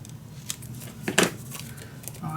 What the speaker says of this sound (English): Of course I need to cut it straight.